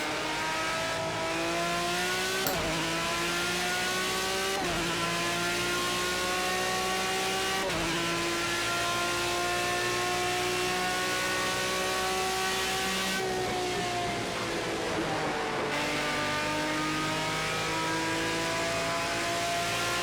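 BMW V12 LMR race car in the Project Cars 2 video game, its engine screaming loud and close through repeated upshifts, each gear climbing in pitch before a sharp cut, with a downshift and renewed acceleration later on.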